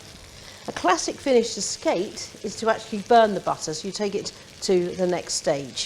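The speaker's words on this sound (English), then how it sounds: "allow this to stop sizzling and start to go brown" Butter sizzles and crackles in a frying pan as skate cooks and the butter browns, a soft continuous hiss running beneath a person talking steadily.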